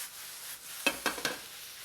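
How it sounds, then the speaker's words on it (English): Onions caramelizing in a pan for soup give a faint, steady sizzle, then three quick scraping stirs close together, with no talking. "after every time I stir the onions, I want to spread them out to cover the whole base of the pan"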